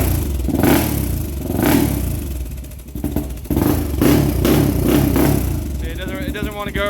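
A Honda 400ex quad engine runs with chattering valves and a rough, pulsing mechanical clatter that rises and falls, heard under someone talking throughout.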